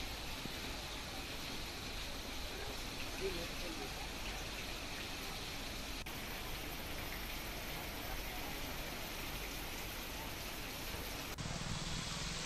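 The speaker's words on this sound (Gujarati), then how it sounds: "માલપુર તમામ જગ્યા ઉપર ધોધમાર વરસાદ શરૂ થયો છે" A torrential rainstorm pours across Malpur in Aravalli district, flooding the town's markets, heard as an unbroken wash of heavy rain hiss that stays even and loud throughout.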